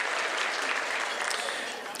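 Dinner guests at a sophomore ceremony give a brief round of applause for the food service staff, a short burst of many hands clapping at moderate loudness, tapering slightly at the end.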